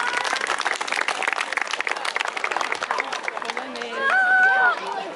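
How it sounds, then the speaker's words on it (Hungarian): A crowd applauds at a village grape harvest festival in Balatonendréd, with dense, steady clapping for several seconds before a voice rises over it. "Egy tapsot megérdemel."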